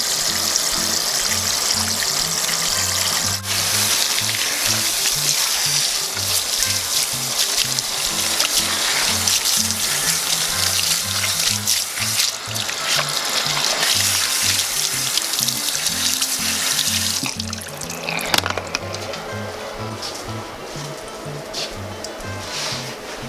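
Hair gets shampooed in a barber shop with running water and a small scrub brush, giving a steady loud hiss of spray and scrubbing over a low rhythmic backing beat; the hiss drops away near the end.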